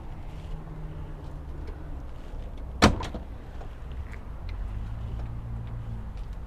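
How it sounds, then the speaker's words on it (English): Rear doors of a 2024 Thor Dazzle 2LB B-Class camper van swing open with one sharp latch clack and a brief rattle, heard close against a steady low idle rumble, with no talking. "Okay, I'm going to open up these rear doors."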